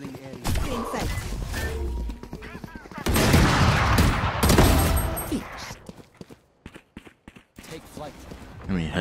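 Bucky shotgun blasts and other gunfire crack out in a video game. The heaviest burst comes midway and sits under excited talking from players.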